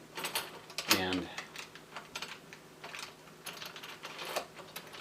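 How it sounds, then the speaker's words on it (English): Metal keys turning in a lock puzzle until its bolt slides back, giving close clicks, ratcheting scrapes and one sharper mechanical clack, while a voice speaks softly in the background. "there it's unlocked, the lock bolt is pulled back"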